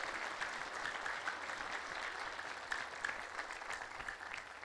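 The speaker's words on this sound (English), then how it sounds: "Please give a round of applause again for them." Round of applause for Hannah and Gereda at a church gathering in Washington DC, steady moderate clapping from a crowd, slightly distant and even throughout.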